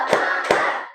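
A class of students claps hands together in rhythm, loud crowd-like beats landing in a quick pattern over a continuous roomy hum of many hands.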